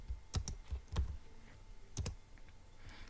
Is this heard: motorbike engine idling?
no